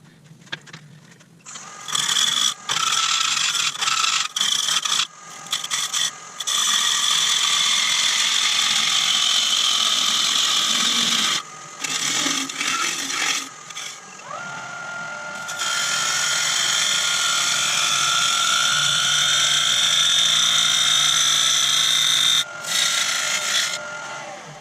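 Elm bowl being turned on a lathe with a sharp gouge at around 1750 rpm: loud, sustained scraping and hissing cuts close by, broken by short pauses and shifts in pitch as the tool moves across the grain.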